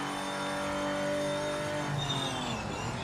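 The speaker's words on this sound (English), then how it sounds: "But I just heard the engine slow down." A race car engine in the video game Project Motor Racing hums steadily, then its pitch drops as the car slows, with no talk over it.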